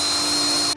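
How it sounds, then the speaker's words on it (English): A power drill bores holes into greenhouse door or window framing, a steady high whirring whine that runs loud and close and then cuts off abruptly. "I may have been pressing too hard to try to get the drill in, or it wasn't a good piece, but these holes blew out completely."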